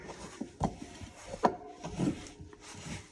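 A wooden-handled dough whisk works through stiff sourdough studded with mango and apricot, making soft, close scraping and dull thudding strokes at an uneven pace.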